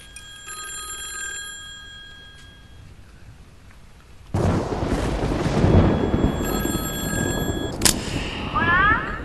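An old telephone bell rings in repeated bursts inside a dark house in the Stranger Things VR game, first faint and distant, then louder amid a sudden heavy rumble of noise.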